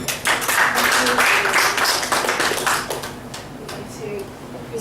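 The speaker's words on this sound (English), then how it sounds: "I'd like to give a very warm welcome, a very warm applause of thanks to Hattaya for the talk today." Audience applause after a talk at a Net Impact Bangkok professional chapter event: a burst of clapping from a modest crowd that gradually thins out, with some talking mixed in.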